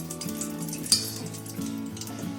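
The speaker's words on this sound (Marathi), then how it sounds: "आता मी त्याच्यामध्ये कढईमध्ये 1 चमचा घी टाकते." A spoonful of ghee heats and sizzles in a kadhai, a soft steady frying hiss with a faint low hum beneath and one sharp metallic clink of a spoon near the start.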